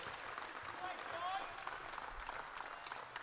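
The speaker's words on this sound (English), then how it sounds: "Crowd getting behind the Wheelcats here, all the way from Perth." A crowd at a wheelchair basketball grand final applauds and cheers for the Wheelcats from Perth, a soft, distant spread of clapping and voices under a faint commentator.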